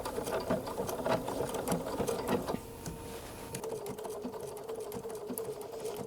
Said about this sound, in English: So this stitch is stitching the edge and giving me a decorative along the outside.